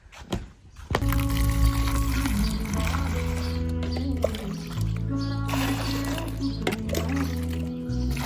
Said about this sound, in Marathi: तर काहीच गाडीवर पाणी मारलंय सगळीकडं